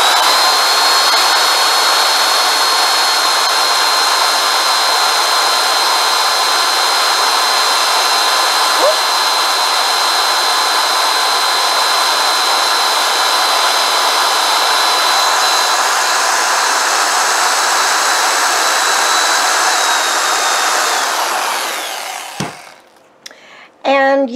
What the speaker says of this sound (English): we're just going to drill a hole in the mold.